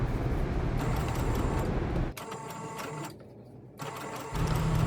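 A sewing machine zigzag-stitches over serging to reattach a shirt shoulder, a steady mechanical whir that runs, pauses briefly with quieter motor hum and a short near-silent gap, then starts up again.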